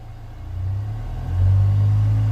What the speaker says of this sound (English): I'm gonna accelerate until it shuts off.